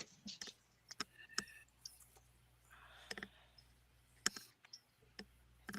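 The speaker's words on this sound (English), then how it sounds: "Actually, I'm going to shuffle these. Let me shuffle this." Tarot cards being shuffled by hand, giving soft, irregular clicks and light riffling taps at close range, quiet and intermittent, with a faint low hum behind them.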